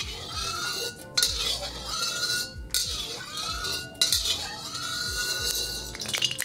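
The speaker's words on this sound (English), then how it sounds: "making sure to spread it around with a spatula." A metal spatula scrapes and clinks against a hot wok as it spreads oil around, in short irregular strokes with brief pauses, close and fairly quiet.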